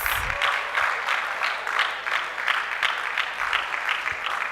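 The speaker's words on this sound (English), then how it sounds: "Please clap your hands." A conference crowd at a developer festival claps continuously, a dense, even roar of many hands from across a hall, holding steady for several seconds.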